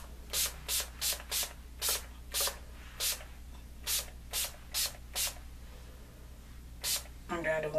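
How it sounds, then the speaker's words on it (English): Repeated short bursts of Urban Decay De-Slick setting spray misted onto a face, about a dozen quick hissing pumps in an irregular rhythm, close and fairly quiet, with a brief rustle at the end. "I take my makeup Urban Decay De-Slick, and I shake it up really good. And I go in and spray my face"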